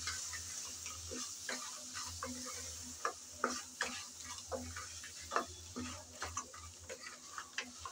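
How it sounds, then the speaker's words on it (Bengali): Crab legs fry in a pan with chili, cumin, coriander powder and salt, a constant low sizzle broken by irregular scraping clicks and taps from a spoon stirring, close and fairly quiet. "সব মশলা একসাথে ভালো করে কষিয়ে নেব।"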